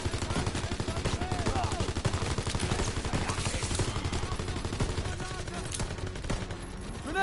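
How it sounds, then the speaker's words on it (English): Enemy machine gun fire in a World War 2 battle comes as rapid, dense bursts of shots rattling on without pause, loud and close, with shouting voices mixed underneath. "Enemy machine gun!"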